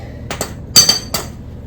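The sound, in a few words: removing old bolt from steering box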